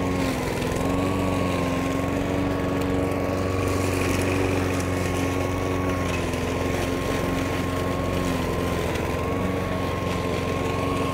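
A Hyundai lawn mower engine drones loudly and steadily at close range cutting tall grass, a constant whirring hum with a sustained buzzing pitch and no breaks.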